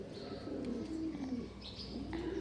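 Pet pigeons coo softly in a low, rolling murmur, close and quiet, with a few faint chirps over a light background hum.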